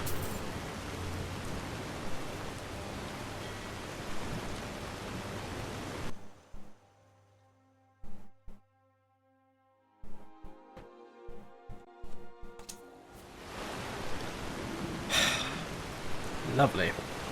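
Steady rain falls in the Skyrim video game, a dense hiss that drops out briefly in the middle with scattered faint clicks and then returns just as full.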